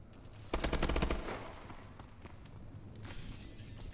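Rapid burst of automatic gunfire in Call of Duty: Advanced Warfare on PS4, a loud clattering volley in the first second that fades into quieter distant shots and game ambience.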